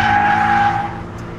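A Toyota GT86 front-engined rear-wheel-drive sports car on a circuit gives a loud close tire squeal over a tonal engine note that fades as it slides past.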